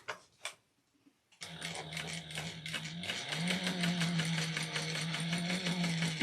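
A sewing machine stitches through backpack canvas, starting after a couple of faint clicks and then running steadily with a rapid mechanical clatter and a low motor hum that rises slightly in pitch partway through.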